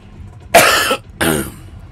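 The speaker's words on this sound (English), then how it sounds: "have a lingering cough. Just is coughing way too much the last few days" A person with a lingering cough coughs twice in quick succession, two loud, close bursts about half a second apart with a short pause between.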